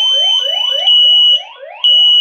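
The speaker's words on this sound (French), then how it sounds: "alarme de fumée déclenchée" Loud electronic smoke alarm in a basement blaring a repeated rising whoop, a sharp high tone sweeping upward over and over with a brief dip in the middle.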